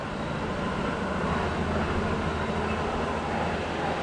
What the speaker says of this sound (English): it does not sound like a train, but sounds like something going on the tracks